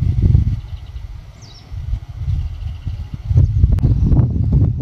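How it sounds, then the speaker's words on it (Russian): Strong wind buffets the microphone in heavy, rumbling gusts that rise and fall by the Belaya river near Tirlyan village in the Southern Urals, with faint bird chirps in the background. "Сильный ветер."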